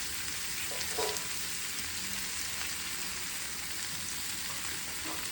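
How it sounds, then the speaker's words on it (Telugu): Onion frying in oil with turmeric and salt for an oats and soya granule upma, a dense continuous sizzle with faint scattered crackles and a light stir or two, close and steady, with no talk. "ఉల్లిపాయ ఆల్మోస్ట్ వేగిపోయింది."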